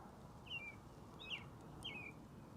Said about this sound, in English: The birds woke up. Yep, we can hear the birds.